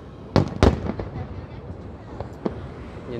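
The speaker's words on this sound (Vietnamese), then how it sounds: "Đây là pháo bông nhỏ nhỏ dễ thương lắm nè." Lunar New Year 2020 fireworks burst near a tall 81-storey tower: two sharp, loud bangs in quick succession, followed by scattered smaller pops and crackles over continuous crowd noise.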